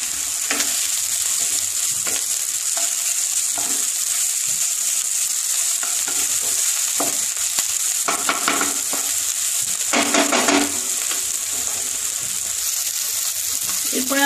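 Tomatoes frying with a pinch of salt in a pan for a non-veg lunch, a loud continuous sizzle close by, broken by repeated scraping stirs and a spluttering burst in the middle.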